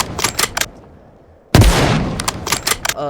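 A single loud, booming shot from a Barrett M4 sniper rifle in a Minecraft gun mod cuts through a short quiet stretch, followed by a long rumbling tail and clicking handling sounds.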